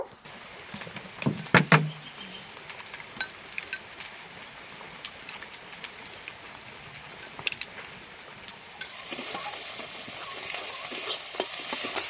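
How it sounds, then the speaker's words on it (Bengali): Onion, ginger and garlic frying in a pan for egg malai curry: a low steady sizzle with scattered clicks and scraping stirs, one louder clatter early on, and the hiss swelling toward the end. "পেঁয়াজ আদা রসুন ভালো করে ভেজে নিয়েছি।"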